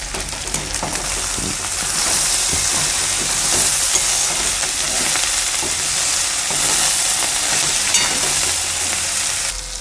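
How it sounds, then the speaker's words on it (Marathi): Garlic cloves and other ingredients with salt sautéing in a pan for Maharashtrian vangyache bharit, a steady dense sizzle and crackle running loud and close throughout with occasional stirring scrapes. "या सर्व साहित्यांना परतवायचं आहे"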